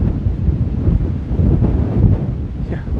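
Strong wind buffets the microphone outdoors, giving a loud, continuous low rumble with gusty surges throughout.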